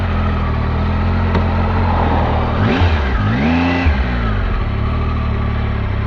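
Triumph Tiger 800 XRX low-ride-height adventure motorcycle engine droning steadily while cruising at a sedate pace, with a brief rising and falling rev in the middle; loud and continuous, no voices.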